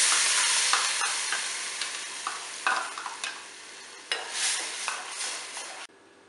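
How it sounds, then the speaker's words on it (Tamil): Onions sauté and sizzle in hot oil in a pan while being made into tomato chutney, with steady frying hiss broken by repeated stirring scrapes and spoon clinks against the pan, no voices. "வெங்காயம் எல்லாம் போட்டு நம்ம நல்லா வதக்கிடலாம்"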